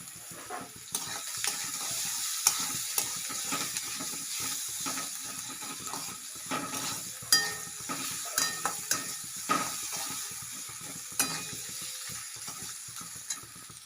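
Egg and lentil curry sizzles softly in a pan while a utensil stirs it, with scattered scraping clicks and taps over a quiet, steady frying hiss.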